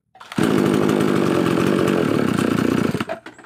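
A mini chainsaw's small two-stroke engine, under carburetor tuning, bursts into a loud, buzzing run for nearly three seconds, then sputters and dies, close by with no talk.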